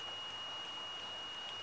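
A multimeter continuity beep sounds as the probe tip touches through a hole during a laptop DC jack replacement, a steady electronic tone held throughout, moderately loud and alone with no talking.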